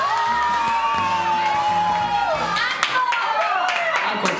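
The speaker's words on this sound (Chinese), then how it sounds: "拍手" Hands clapping in a lively group outdoors in Hualien, with sharp claps standing out near the end over excited, cheerful voices and shouts.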